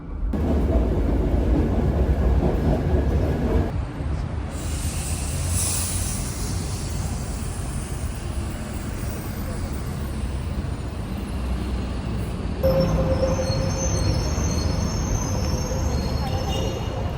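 Subway metro train ride heard from inside the car, a steady loud rolling rumble with rail noise and a brief high squeal of wheels, and a voice speaking now and then.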